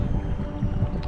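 A strong wind blowing over a lake during a fishing trip for pike makes a dense, loud rumble of gusts on the microphone. Water lapping and boat noise sit underneath, and nobody talks.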